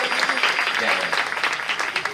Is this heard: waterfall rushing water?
no